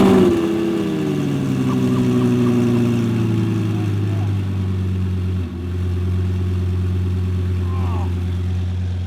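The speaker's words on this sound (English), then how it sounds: "Lambo cold start with homemade twin turbos." A Lamborghini fitted with homemade twin turbos cold-starting, catching with a loud rising bark that settles into a steady, deep, slightly uneven idle rumble close by, with a brief dip midway.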